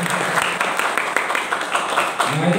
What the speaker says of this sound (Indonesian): Tepuk tangan untuk beliau berdua.